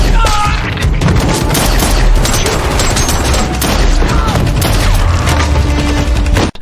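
Gunfire from a film action scene, with sustained loud bursts of shots and booms layered over a dense, continuous soundtrack mix of crashes and rumbling for the whole stretch.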